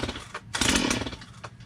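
A flooded chainsaw on full choke being pull-started, giving a short mechanical rasp and a brief sputtering catch from the small engine, close by and moderately loud.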